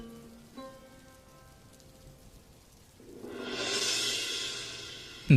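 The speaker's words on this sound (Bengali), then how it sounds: "দাদা, বৃষ্টি তো কোনোভাবেই কমছে না" Rain falls during the monsoon season over farmland, starting quietly and swelling after a few seconds into a steady, loud hiss of heavy downpour. A faint tonal hum is audible beforehand.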